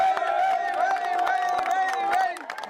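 Outdoor crowd at a community rally cheers and claps in a dense, continuous wash, with high whoops and shouting voices layered over scattered hand claps, steady and loud throughout before easing slightly at the end.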